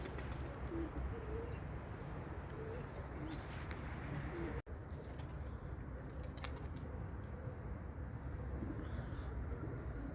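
Soft coos from young smoky-capped pigeons drift in faintly over a constant low rumble of background noise, with a sharp brief click midway.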